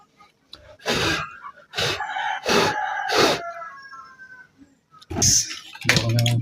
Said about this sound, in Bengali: আর এই পাশের বাসার মুরগিগুলো অতিষ্ঠ